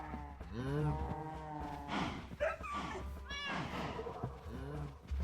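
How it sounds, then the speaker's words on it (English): Minecraft cows in a game lowing repeatedly in overlapping moos, loud and close, with a person talking over them. "If you can even hear that over all of the cows."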